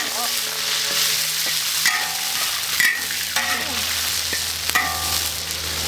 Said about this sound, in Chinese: 还有牛肉下进去炒